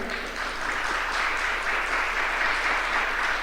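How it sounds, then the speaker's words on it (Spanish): Congregation applauding the Lord during a Spanish-language church service, a dense, steady wash of many hands clapping together at full volume throughout, with no voices breaking through. "Démosle un aplauso al Señor."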